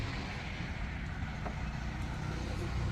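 A vehicle arriving nearby: a dense, steady broadband engine and road rumble fills the scene at a constant level, with no talk over it.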